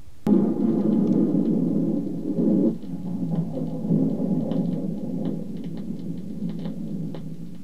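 Thunder rolls and rumbles loudly during a rainy-season storm in Kenya, a deep sustained roar that fades into softer rumbling under steady rain, with no voices.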